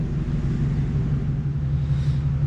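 A truck engine idles steadily nearby in about -20 wind chill, with a low, constant rumble that never changes pace.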